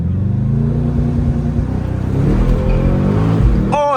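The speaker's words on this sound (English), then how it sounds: "All right, we're gonna try launch control." A 650-horsepower Mercedes-AMG GT63 S launches hard under launch control, its loud engine roar climbing steadily in pitch for several seconds before a brief shift near the end.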